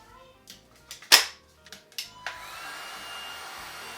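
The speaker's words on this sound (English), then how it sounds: "This battery here does seem to be powering up my heat gun just a little more." A DEWALT 20-volt cordless heat gun is switched on after a few clicks and a sharp snap, then runs with a steady blowing whoosh and faint whine, close up and without speech.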